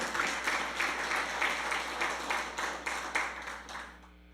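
A church congregation claps in a dense, rhythmic burst of applause, fairly close and continuous, fading slightly toward the end.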